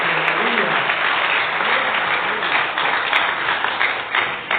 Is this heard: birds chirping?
no